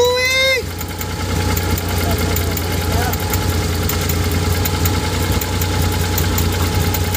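A 4WD vehicle with a gear oil leak at the selector shift idles steadily with a low, even rumble and faint knocking, after a brief rising whine at the start.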